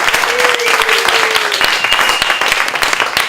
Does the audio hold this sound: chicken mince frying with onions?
no